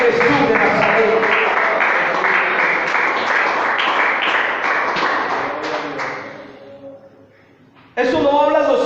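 A church congregation claps together in a steady, rhythmic beat for several seconds. The applause gradually thins out and fades, then a voice speaks loudly over a renewed burst.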